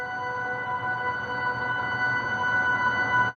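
A glitter pad from an organic piano plugin plays a root and fifth with the top note shifted up an octave, a soft, shimmering sustained tone with airy texture that holds steadily at low volume before cutting off.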